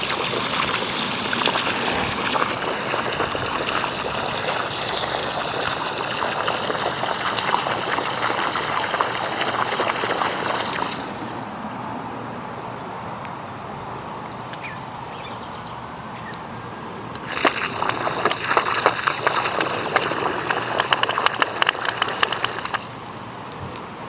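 A garden hose controlled by a Lumary smart water timer sprays water onto shrubs with a steady hiss. The spray cuts out partway through, leaving a quiet gap before it resumes and runs again.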